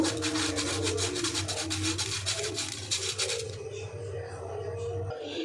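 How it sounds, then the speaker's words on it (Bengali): Wheat flour being shaken and sifted through a sieve in a home kitchen, a steady rasping, scratchy rub that carries on for about three and a half seconds and then drops to quieter rustling, with a low hum underneath. "এবার এই 1 চামচ যে আটা নিয়েছিলাম সেই আটাটাও এর মধ্যে দিয়ে দিলাম, চেলে নেব।"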